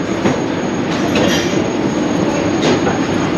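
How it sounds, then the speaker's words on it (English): A double-decker high-speed train rumbles through Barcelona Sants station with a loud, continuous rolling roar, light wheel squeals and faint rhythmic clatter close by. "The whole idea of a double-decker high-speed train just blows my mind."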